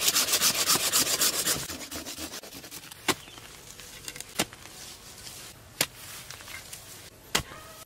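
Rapid back-and-forth sawing on mulberry wood, trimming excess off a tree trunk, rhythmic and close, then slows into a few sharp scraping strokes spaced apart.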